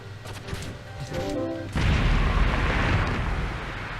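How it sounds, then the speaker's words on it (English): A cannon fires in the Owlboy video game, landing as a sudden loud blast with a broad rumbling roar that carries on for a couple of seconds after a quieter stretch of game sounds. "I hate the cannon."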